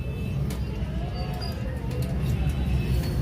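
Pigeons coo in low, soft bursts at a pigeon sale near Data Darbar, set against a steady hum of nearby traffic and background bustle.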